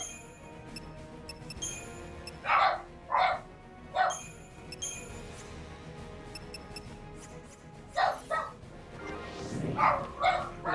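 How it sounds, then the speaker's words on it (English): A dog barks in bursts at someone outside, several sharp, loud barks in two clusters separated by a quiet stretch, close to the microphone and with no talk over them. "The dog just heard someone outside,"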